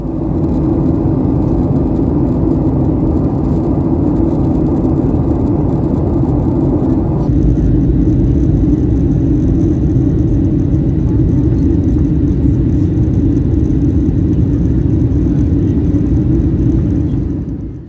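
Inside a Virgin Australia airliner cabin descending toward Brisbane, a loud, constant engine rumble and airflow roar drones on without a break, with a slight shift in tone partway through and no voices.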